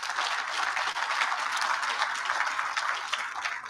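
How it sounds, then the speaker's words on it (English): An audience at a Metropolitan Water District funding celebration claps steadily, a dense, even patter of many hands that sounds fairly close and holds at a constant level throughout, with no voices over it. "So let's give her a great round of applause."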